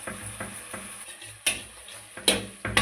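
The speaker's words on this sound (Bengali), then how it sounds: "এই মশলাটা এইভাবে নাড়তে হবে, না হলে দইটা কেটে যাবে" Spice paste mixed with yogurt being stirred in a pan, a soft scraping stir with a few sharper clinks of the spoon against the metal, close and alone with no talk.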